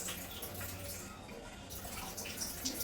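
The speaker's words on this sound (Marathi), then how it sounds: "त्याला थोडंसं पाणी घालून घेऊया आपण." Water is poured gently from a container into indoor potted plants, making a faint, steady trickling and splashing sound in a quiet room.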